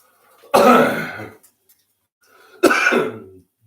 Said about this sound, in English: Because I got this cough, I can't seem to get rid of it